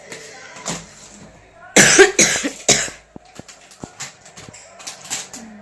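A woman coughs in a short loud burst of several close coughs, followed by quieter clicks and light background noise.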